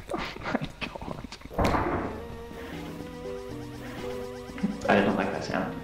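A giant spider creature stirs in the horror game Lethal Company, with dull thuds, thumps and scuttling knocks rising and falling under excited voices.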